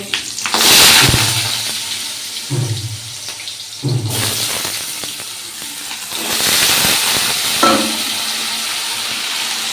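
Small diced potatoes frying in oil with black cumin and green chilli, crackling and sizzling in uneven bursts with occasional stirring and pan knocks, fairly close and without talk.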